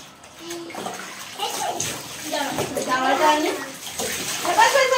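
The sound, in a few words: water while bathing children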